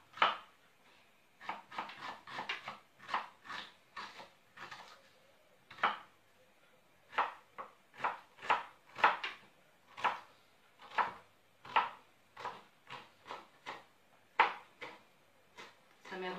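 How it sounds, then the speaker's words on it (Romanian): A knife chops onion finely on a board in a steady run of close, crisp taps, some quick bursts and brief pauses, with faint speech at times. "Acum tăiem ceapa. Mărunțel, mărunțel."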